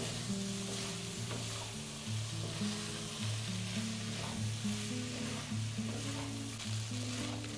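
Flour cooks in a pan as the base for a ground beef and potato casserole gravy, giving a continuous close sizzle with soft stirring scrapes and a faint tune underneath.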